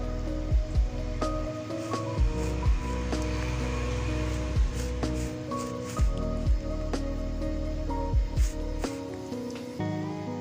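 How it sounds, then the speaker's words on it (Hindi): Thick batter being mixed with water in a bowl for frying, giving wet squishing and slapping sounds at a steady, uneven rhythm, close and fairly quiet, with no talk. "अब पानी इसमें शामिल करके ये बना रही हूँ मिक्सचर।"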